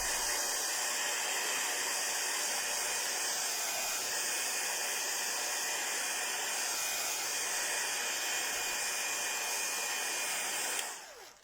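A hair dryer blows steadily on freshly crafted cardstock paper elements, a loud continuous airy roar that holds for about eleven seconds before cutting off at the end.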